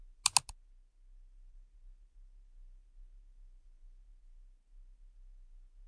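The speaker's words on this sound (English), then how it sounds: "We type password and click next." A few quick taps on a computer keyboard while entering a password, clustered at the very start, followed by near silence with a faint low hum.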